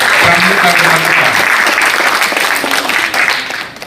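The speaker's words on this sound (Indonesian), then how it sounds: "Kita kasih tepuk tangan untuk pramuka Kota Kupang." A crowd gives loud, dense applause for the Kota Kupang scouts at a Pramuka Garuda inauguration ceremony, sustained for a few seconds before tapering, with a voice speaking over the start.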